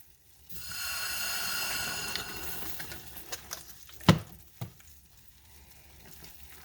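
A candy mixture stirred in a pot for holiday crackle candy, a bubbling hiss easing into scattered scrapes and knocks of the spoon, with one sharp clack midway, close and no speech.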